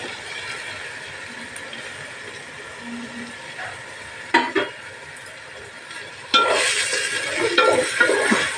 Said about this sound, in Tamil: தக்காளி நல்லா வதக்கட்டும்